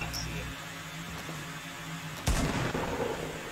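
Gunfire in a multiplayer shooter video game, a loud burst of shots cutting in partway through over steady background noise.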